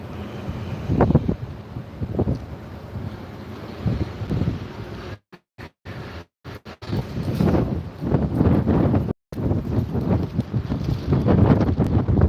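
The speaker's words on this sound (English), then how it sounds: "oh, the wind, man" Wind gusting across a Seattle rooftop at night, a loud steady roar of buffeting against the microphone with a few abrupt dropouts midway, no talk over it.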